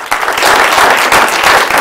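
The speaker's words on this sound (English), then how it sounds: "Give the Lord a hand clap of praise" A church congregation claps hands in praise, a dense, steady wash of many hands sustained throughout, loud and close with faint voices mixed in.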